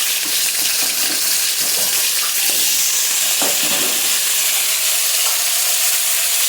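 Potato pieces fry in hot oil seasoned with whole cumin seeds, a loud, steady sizzle close by with a few stirring scrapes over it and no talking.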